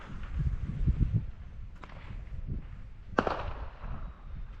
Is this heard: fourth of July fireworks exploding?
yes